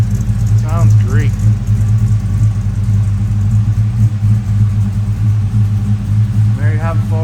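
A 1981 Chevrolet C10 Stepside pickup with a Corvette engine and lumpy cam idles in a loud, deep uneven rumble close by, while a voice talks briefly near the start and end.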